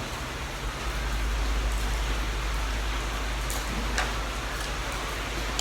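Heavy rain pours down in a steady, dense hiss that stays loud and even throughout, with no voices over it.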